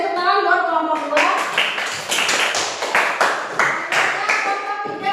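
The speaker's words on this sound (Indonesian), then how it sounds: "Tepuk tangan buat kelompok dua." A classroom of students clapping for a presenting group, a dense, steady patter of hand claps lasting several seconds, with a voice audible over the start.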